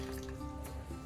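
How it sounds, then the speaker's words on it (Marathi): Coconut milk squeezed by hand from freshly reground coconut for sol kadhi, giving close, wet dripping and squishing with liquid trickling steadily into a bowl, with no talk. "आपल्याला जेवढं पाणी निघतंय ना हे खोबऱ्याचं दूध, तेवढं आपल्याला काढून घ्यायचं आहे"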